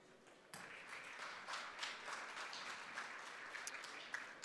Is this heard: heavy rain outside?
no